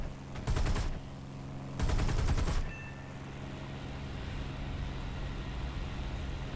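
.50 caliber machine guns fire in the video game War Thunder in two short, loud bursts of rapid shots about a second apart, over a steady aircraft engine drone that continues afterward.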